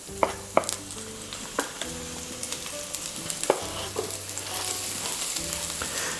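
Onion, ginger and garlic fry in a pan with a steady close sizzle, broken by occasional sharp clicks and knocks as the pieces are stirred.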